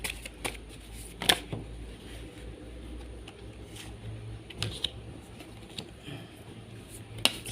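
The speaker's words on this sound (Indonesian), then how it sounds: "Ini kartunya saya bukain." Tarot cards are laid out and flipped over during a private reading, with scattered soft slaps and papery flicks, some sharper clicks, spread across a quiet room.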